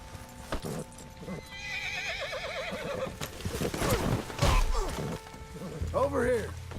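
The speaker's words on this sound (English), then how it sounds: "Horse." A horse in the video game Red Dead Redemption 2 gives a long wavering neigh, close and loud over snorts and hoof clops, then a second whinny near the end.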